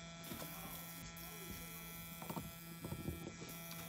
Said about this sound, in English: That's a high speed motor.